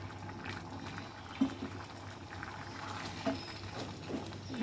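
Lentil dal with olives and coriander simmers on the stove, a faint low bubbling with a few soft plops and gurgles, quiet and close, with no voices.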